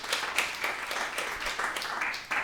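Scattered audience clapping at a stand-up comedy show, a modest patter of hands that comes in uneven bursts, fairly faint and thin, as if only part of the crowd joins in.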